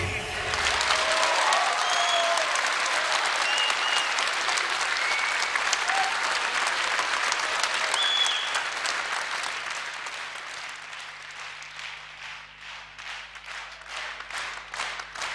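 Sustained theatre audience applause for Ashugh Razmar Sasuntsi at his 60th birthday celebration, a dense wash of many hands that stays loud for about eight seconds and then thins and fades toward the end.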